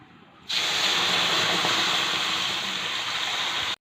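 Water hits red-roasted semolina in a hot pan, bursting into a loud, sudden hiss of steam that holds steady for about three seconds before cutting off.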